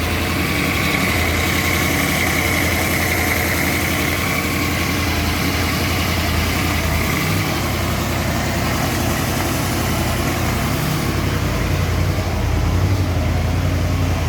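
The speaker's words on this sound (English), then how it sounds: "Now you can see that this bike is running very well." A 1985 Yamaha Venture Royale motorcycle idles steadily, its engine giving a loud, close, continuous low rumble with an even pulse and no breaks.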